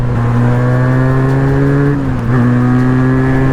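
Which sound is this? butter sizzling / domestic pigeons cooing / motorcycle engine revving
motorcycle engine revving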